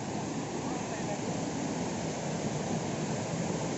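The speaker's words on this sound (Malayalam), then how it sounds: "വെള്ളച്ചാട്ടത്തിന് നല്ല സൗണ്ട്." A hidden waterfall and forest stream in Kannur rush as a dense, continuous broadband roar, steady and moderately loud with no clear break, alone without talk.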